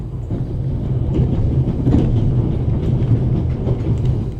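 Steady interior ambience of a moving train in The Raven Remastered adventure game: a continuous loud low rumble with faint rattles and clatter throughout, with no pauses.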